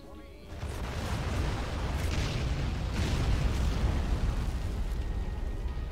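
A deep TNT explosion in the video game Northern Hell erupts after a brief pause, a heavy rumbling blast that roars and lingers for several seconds.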